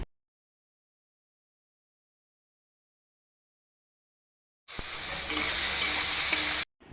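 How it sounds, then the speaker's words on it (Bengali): Vegetables, cashews and melon seeds frying in oil in a pan, a steady loud sizzle with stirring that starts abruptly after a long silence and runs for about two seconds before cutting off. "তারপর ওই তেলে সবজিগুলো, কাজু ও মগজদানা দিয়ে অল্প লবণ দিয়ে ভালোভাবে সবজিগুলোকে ভেজে"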